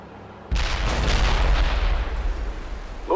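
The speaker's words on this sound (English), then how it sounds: "We need artillery immediately." Artillery barrage in the video game World in Conflict, a sudden heavy booming blast after a short quiet start, followed by a rumbling roar of continued fire and explosions.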